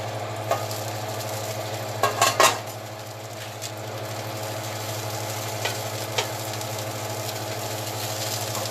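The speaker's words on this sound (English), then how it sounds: "I am just turning the onions" Onions sizzle steadily in a hot pan for street tacos, while a utensil scrapes and clinks against the pan now and then, most busily in one short burst of stirring.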